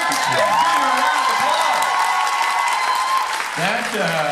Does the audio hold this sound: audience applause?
yes